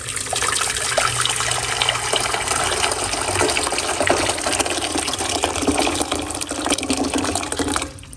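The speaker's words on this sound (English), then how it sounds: "I'm going to put some water. I'm using hot water from the kettle." Hot water from a kettle poured into a cooking pot for steaming cabbage, a steady, close, loud gushing stream that runs without pause for about eight seconds before cutting off.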